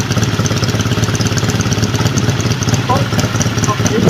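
A 1970 BSA Thunderbolt 650 motorcycle runs after a kick start, its engine giving a loud, steady, close throb with an even rapid pulse throughout.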